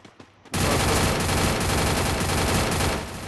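Video game gunfire erupts after a brief quiet moment, becoming a loud, sustained stream of rapid automatic shots that continues to the end.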